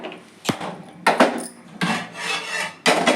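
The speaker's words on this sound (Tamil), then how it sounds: "கடாய் வச்சுட்டேன்." A metal kadai set down on a home kitchen stove with a few distinct clanks and scrapes of metal against the burner grate, close and clear, with no talking.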